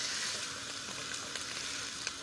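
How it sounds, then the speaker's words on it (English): Onions sizzle and crackle steadily in a hot pan, a continuous close frying hiss with small pops. "Onions are frying nicely now."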